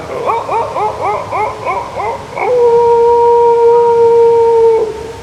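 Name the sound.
human imitating distant dog howling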